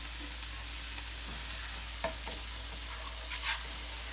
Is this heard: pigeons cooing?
no